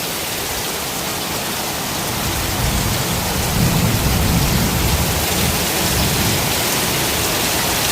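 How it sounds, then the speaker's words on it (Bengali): Steady, dense rain pattering on a tin roof, heard from indoors, a constant broadband patter that swells slightly louder midway, with no voices. "এই যে টিনের চালে যে বৃষ্টি পড়তেছে টপ টপ টপ টপ শব্দ"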